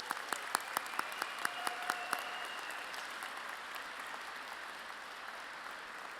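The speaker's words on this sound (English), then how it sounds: "Please join me in a round of applause for these outstanding graduates." Applause for graduates at a 2017 community college convocation ceremony, starting with several sharp, distinct claps close by, then settling into a softer, steady wash of clapping from the audience.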